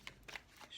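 Tarot cards being shuffled by hand in a quiet room, with a few brief soft riffling bursts spaced apart over less than a second.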